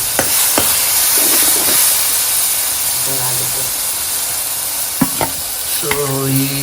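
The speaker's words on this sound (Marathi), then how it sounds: "लाल तिखट चटणी छान अशी डीप फ्राय करायची तेलात" Red chili chutney deep frying in hot oil, a loud steady sizzle and hiss close by throughout, with a few clinks of utensils and brief tonal kitchen noises near the end.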